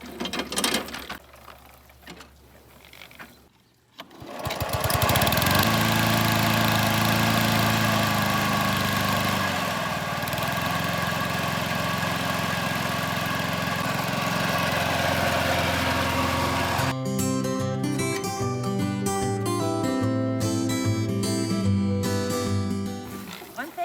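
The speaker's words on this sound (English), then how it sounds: "This is my lawnmower from home" A riding lawn mower's small engine starts and runs loudly and steadily for a long stretch, then the sound shifts to a rougher, clattering mechanical hum.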